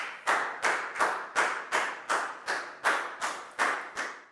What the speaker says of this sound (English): And a big round of applause for everyone.